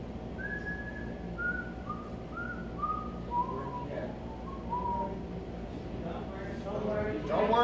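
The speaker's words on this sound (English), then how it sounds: "I just whistle this, and you tell me the song that I'm whistling" Someone whistles a bouncy melody, a series of short rising and falling notes over faint background noise.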